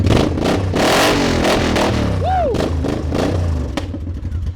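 A motorcycle with loud aftermarket pipes is blipped from idle into hard revs, a close, booming exhaust roar that rises and falls in aggressive bursts.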